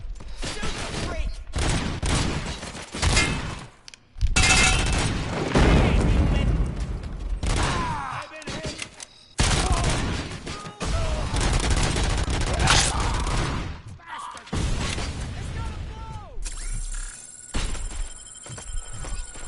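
Heavy bursts of gunfire and booming shots from the video game RoboCop: Rogue City, loud and near, with dense volleys and short pauses between them over about twenty seconds, mixed with game noise and intermittent voices.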